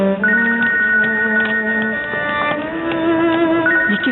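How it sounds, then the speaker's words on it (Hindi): A phone rings with a steady electronic melodic tone, loud and continuous. "ये किसका फोन बज रहा है?"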